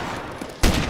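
High-power rifle gunshots in the zombie survival game DayZ, a dense rumbling crackle building to one loud, booming report near the end of a short burst.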